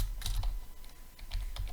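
Keys on a computer keyboard are typed in a short run of soft, close clicks, a cluster at the start and another near the end, with a brief lull between.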